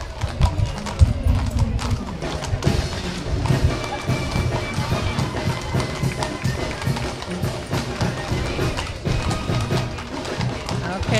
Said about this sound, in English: there's our last batch of horses.